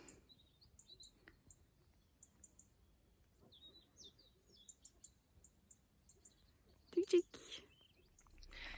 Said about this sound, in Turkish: Kuşların sesini duyuyor musunuz?